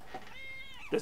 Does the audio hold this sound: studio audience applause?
no